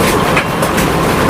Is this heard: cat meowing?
no